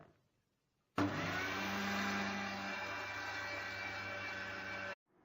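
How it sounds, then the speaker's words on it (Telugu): A kitchen mixer grinder whirs steadily as it purees a smooth paste with olive oil for a baby skin cream, starting abruptly and running loud and continuous for about four seconds before cutting off. "మిక్సీ పట్టాలి."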